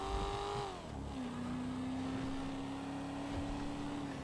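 Exhaust note of the Coquette D1, a video game version of the Corvette C1, a steady droning engine tone that dips briefly as it shifts, then holds a smooth, moderately loud hum.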